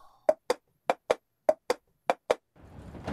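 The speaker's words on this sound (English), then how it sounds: "that clatter you heard? That was just me trying to put my umbrella up" Someone putting an umbrella up makes a series of about nine sharp, separate clicks and clacks in an uneven rhythm, followed by a rising rustle of fabric.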